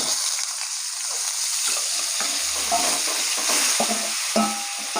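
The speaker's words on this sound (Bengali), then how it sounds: "এই এঁচড়গুলো তেলে ভালো করে ভাজবো।" Raw jackfruit pieces fry in hot oil with a steady, close sizzle while a spatula stirs and scrapes through them, the clatter coming in irregular knocks.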